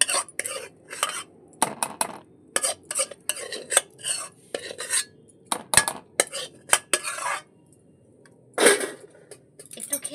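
Vegetable khichuri is scraped and tipped from a pot into a large bowl, giving a run of close metallic clinks and spoon-on-metal scrapes in uneven bursts with short pauses between them.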